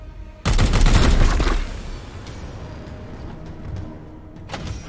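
Gunfire in Warhammer 40,000: Chaos Gate - Daemonhunters, a sudden loud burst of rapid shots lasting about a second, then a fading rumble and a faint later crack.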